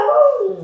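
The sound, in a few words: dog barking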